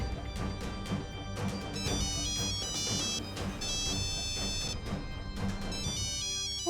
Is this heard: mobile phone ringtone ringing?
yes